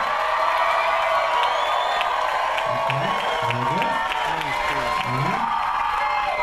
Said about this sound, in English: make some noise for Jasmine.